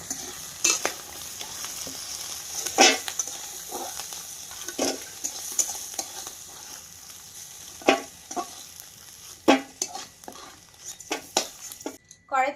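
Fish fries in oil in a kadai with a low steady sizzle, broken by repeated metal spatula scrapes and clinks against the pan at an irregular pace, loud and close.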